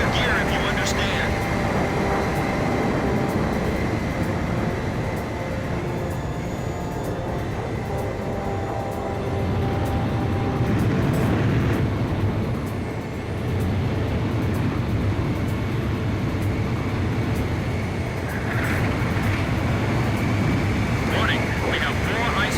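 Jet aircraft engines in Ace Combat 5: The Unsung War roar steadily throughout, a continuous broad rumble with a faint high whine, while radio voices speak over it.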